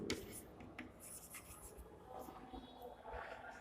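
Marker or chalk scratching across a board during a Class 7 maths lesson on integers, a continuous faint rubbing and scribbling with soft room noise and a little background voice.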